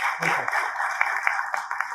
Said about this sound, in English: let's all give a huge round of applause